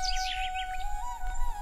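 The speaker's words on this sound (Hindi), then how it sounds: "अगली सुबह चिड़ियों के चाचाहट से बलराम की नींद खुल जाती है।" Morning birdsong in an animated story: quick, high chirps and tweets in short bursts over a faint, steady background tone, with no voices.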